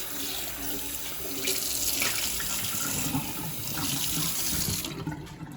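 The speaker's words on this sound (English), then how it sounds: "just gonna give it a real quick rinse" Tap water runs steadily into a sink as a cast iron pan is rinsed, a continuous close splashing hiss with shifting spatter as the cookware moves under the stream.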